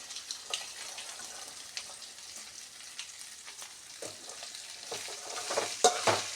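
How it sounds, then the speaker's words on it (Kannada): Beans and ivy gourd palya with curry leaves frying in oil, a quiet steady sizzle broken by scrapes and clinks of a spoon stirring in the pan, growing busier toward the end, with no voices. "ಒಗ್ಗರಣೆ ಹಾಕ್ಬಿಟ್ಟು ಎಣ್ಣೆ ಹಾಕ್ಬಿಟ್ಟು ಕರಿಬೇವೆಲ್ಲ ಹಾಕಿದ್ದೀನಿ"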